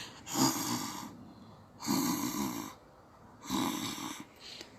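Three loud, drawn-out snores come at a slow, even pace, each a rough rasping breath with quiet gaps between; a person is imitating snoring.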